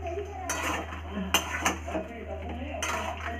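A utensil scrapes and clatters against a pot while a poppy seed and mustard curry is mixed, several distinct metallic knocks over a low steady hum, close and moderately loud, no talk.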